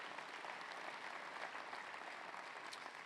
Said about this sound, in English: Give Buck a round of applause.